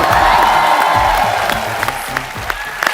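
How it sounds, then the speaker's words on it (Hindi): Loud, sustained studio audience applause on a comedy talk show, dense clapping with a few cheers that gradually thins toward the end. "जोरदार तालियों से स्वागत होना चाहिए।"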